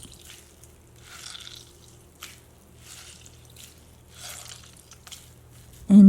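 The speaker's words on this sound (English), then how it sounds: "Squeeze the sauerkraut until dry like this." Wet squishing and dripping as liquid is squeezed out of sauerkraut until dry, in several bursts. Close and fairly quiet over a low hum, then a sudden loud thump at the end.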